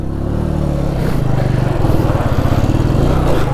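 A KTM motorcycle engine drones loud and close during wheelie practice, a steady low rumble with a faint revving pulse that holds level throughout.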